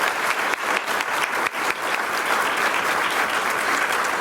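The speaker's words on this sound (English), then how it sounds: "We should give them another round of applause." An audience at an art and essay contest awards ceremony gives a sustained round of applause for the winners, with many hands clapping densely and loudly, close by and without speech.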